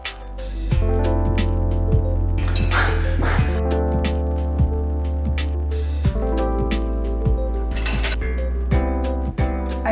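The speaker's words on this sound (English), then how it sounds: "so I'm going to try to hand whisk it" Milk being frothed by hand with a whisk: a quick, steady run of light metallic clinks and rattles that lasts nearly the whole time, heard over a sustained tonal background.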